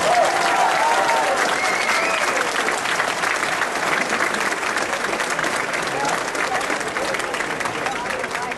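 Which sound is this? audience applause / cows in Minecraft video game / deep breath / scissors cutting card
audience applause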